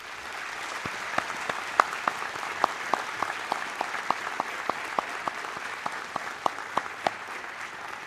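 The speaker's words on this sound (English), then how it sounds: "So I will ask the graduates to join with us in a round of applause" Audience applause at a university graduation ceremony, heard faint and distant as a soft wash of clapping, with one sharper clapper beating out an even, regular rhythm on top.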